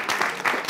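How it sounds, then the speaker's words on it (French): A short burst of studio audience applause on a French-language TV entertainment show, a dense, bright wash of clapping that lasts well under a second. "Je pense que ça s'applaudit."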